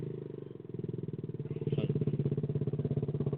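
Motorcycle engine idling with the throttle set low, a close, steady pulsing putter with a rhythmic firing beat that firms up slightly partway through.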